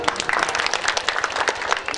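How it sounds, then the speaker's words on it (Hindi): An audience at a live municipal gathering in Sarlahi claps together in dense, loud applause that fills the whole stretch, with no talk over it. "अहाँ सब ताली बजा दियो।"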